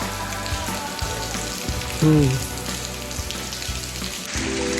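Steady, dense hiss of monsoon rain falling on surfaces at the Bedse Caves near Lonavala, India, continuous throughout, with a brief faint tonal sound partway through.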